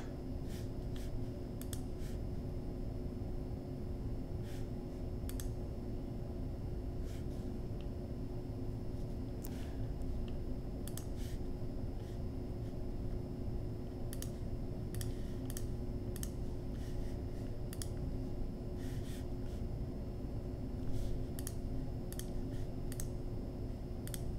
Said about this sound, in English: Probably because of me typing here.